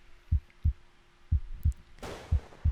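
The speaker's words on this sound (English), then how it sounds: "when you load in, the screen's a bit dark and you hear that heartbeat" Heartbeat sound effect from the video game ArmA 3, playing as a slow series of deep, thudding low beats, mostly spaced pairs, with a brief burst of noise near the end.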